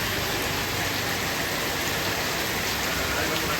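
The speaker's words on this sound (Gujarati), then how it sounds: "તો જો ફરી પાછો વરસાદ ચાલુ થયો છે." Steady heavy rain pouring outdoors, a dense continuous hiss that fills the whole stretch at a loud, even level with no breaks.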